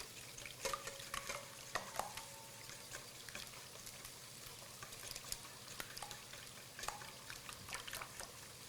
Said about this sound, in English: I'm going to break the eggs up and the yolks up first